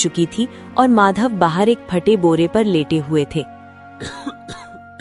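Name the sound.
old man coughing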